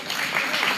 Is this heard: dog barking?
no